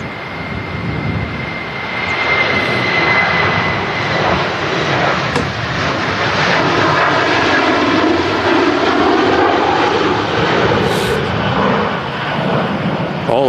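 An Aer Lingus aircraft in retro livery passes at Manchester Airport, its engines building into a loud sustained roar with a sweeping rise and fall, while people talk at times underneath.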